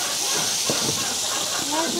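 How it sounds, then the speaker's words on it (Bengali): Tilapia fish frying in hot oil, giving off a continuous close sizzling hiss throughout, with faint voices in the background. "তেলাপিয়া মাছ ভাজা হচ্ছে"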